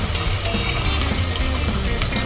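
Water poured into a cooking pot of chicken sopas with meat and elbow macaroni, a steady, close rushing splash that runs unbroken and loud throughout, with no voices over it.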